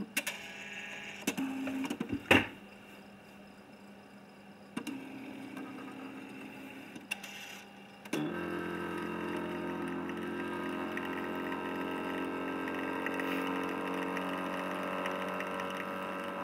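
A Primera Signature Z1 CD printer starts printing a disc, giving a few clicks and short whirring bursts and then settling into a steady mechanical hum as the print run continues.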